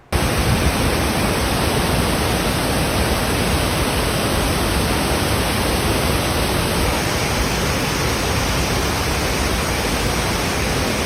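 Loud, steady roar of a flooded stream rushing above Mag-aso Falls, a dense unbroken wash of water noise filling the whole stretch with no pauses.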